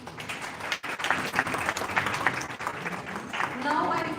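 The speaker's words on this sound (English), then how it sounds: "Please give a round of applause." A crowd at an international conference applauds with dense, steady clapping that continues throughout, moderately loud in a large room.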